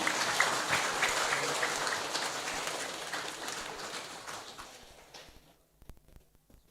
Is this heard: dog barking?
no